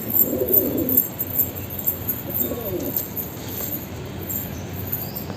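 A white pigeon with white eyes coos softly in low, repeated murmurs, fairly close and fading toward the end over a faint background hiss.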